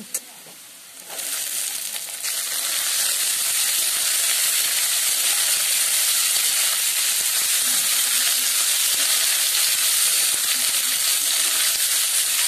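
Carrots and beans sizzle and fry steadily in a pan for veg fried rice, a loud continuous hiss that swells after a soft start and holds for the rest of the clip with no talk.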